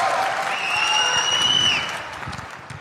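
Audience clapping at a live celebrity event in Saudi Arabia, a steady dense applause wash with whistle-like tones over it, fading toward the end.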